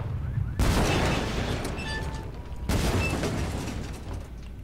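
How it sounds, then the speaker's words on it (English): C4 and remote explosives going off like fireworks in Hitman 2, two loud blasts roughly two seconds apart, each a sharp boom trailing into rumbling crackle, with brief whistling tones between. "I threw the C4 and the remote explosives in, and then I got changed and watched the fireworks."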